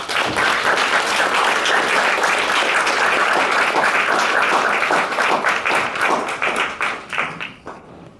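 An audience applauds to welcome Sam Flancher and Pedro Costa at a film discussion event, dense steady clapping filling the room before tapering off near the end.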